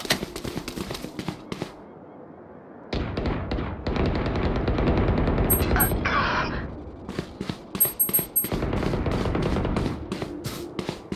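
Bursts of gunfire in the video game Valorant: rapid clusters of sharp shots that start and stop in quick volleys, with short quiet gaps between exchanges.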